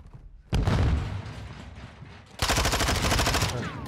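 Rapid automatic gunfire in the video game Warzone 2, two loud bursts of fast repeated shots, the second sharper and more evenly rhythmic, close and dominating with no talk.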